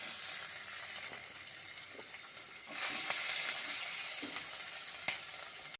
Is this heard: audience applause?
no